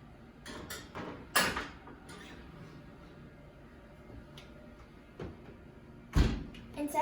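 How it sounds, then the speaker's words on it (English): A hot oven door clunks and thumps as biscuits go into the 450-degree oven, with scattered knocks and rattles and two heavier bangs, fairly close in a quiet kitchen. "So now we're going to put the biscuits in the oven."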